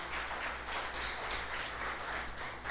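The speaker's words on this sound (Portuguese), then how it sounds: "Vamos aplaudir bem forte em nome de Jesus." A church congregation at a family service applauding loudly and steadily, a continuous dense clapping texture with no break.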